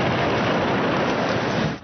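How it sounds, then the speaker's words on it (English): Heavy rain pours during a thunderstorm in southeast Queensland, a dense, loud, steady roar of water that holds constant throughout without letting up. "This storm was spectacular, but the rain was unrelenting."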